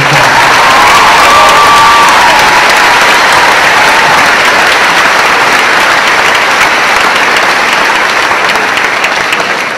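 Loud, continuous clapping from a crowd at a school awards assembly, a dense even roar of hands with faint cheering early on, sustained throughout.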